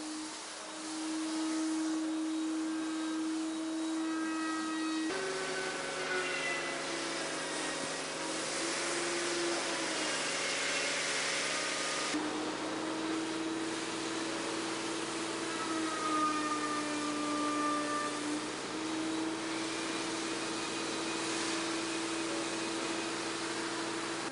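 An airbrush spraying paint for realistic flame artwork, a continuous close hiss of compressed air that holds steady and alone, with faint tonal whines and shifts in pitch.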